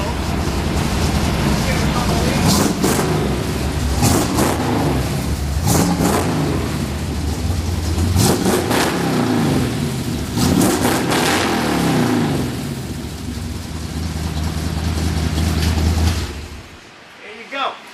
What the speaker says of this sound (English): That's how she runs. That's how she starts. Like I said, 327.